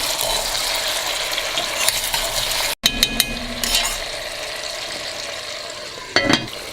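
Lamb being stirred into Uzbek plov in a pot: a steady frying sizzle with scraping, clinking utensil strokes, a brief dropout midway and a louder scrape near the end.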